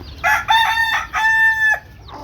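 Domestic desi chickens at a backyard coop: a rooster crows loudly nearby in a long drawn-out call, broken into segments, with softer clucks around it and a quiet rural background.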